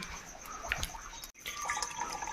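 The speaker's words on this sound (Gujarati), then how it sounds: "એની ઉપરથી પથ્થરમાંથી આવી રીતે પાણી પડે છે" Water drips from the rock onto a Shiva lingam inside the Tapkeshwar Mahadev cave temple, a steady wet trickle and splash heard up close, with one brief hush midway.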